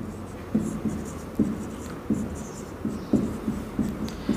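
Chalk or marker scratches across a board while a math problem is solved, making a steady series of short strokes with soft taps in an even rhythm, close and fairly clear.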